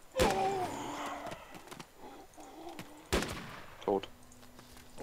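Sharp shotgun blasts in the video game DayZ crack out in a few separate bursts, with game sounds and brief vocal noises in between.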